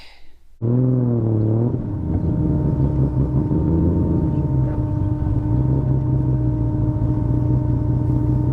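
A Toyota Supra on a test drive after coolant-leak repairs: the engine starts abruptly and revs up, then settles into a loud, steady drone heard from inside the car.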